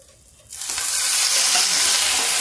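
Green peas dropped into a hot pan with cumin seeds, setting off a loud, steady sizzle of frying that starts abruptly after a quiet moment and holds for the rest of the clip, with no talking.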